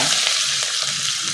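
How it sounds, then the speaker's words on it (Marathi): Onion with mustard seeds, cumin and curry leaves sautés in hot oil in a kadhai, giving a steady close sizzling hiss with faint stirring underneath. "आता हे सर्व मिश्रण छान लालसर होईपर्यंत परतून घ्यायचं आहे"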